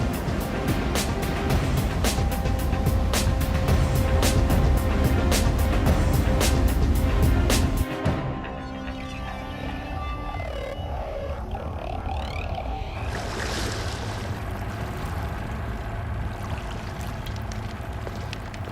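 A patrol boat's engine running ahead at 720 rpm, a loud steady rumble with rhythmic pulsing that drops to a lower, softer drone partway through, with water wash beneath.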